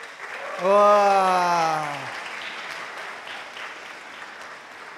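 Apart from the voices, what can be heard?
audience applause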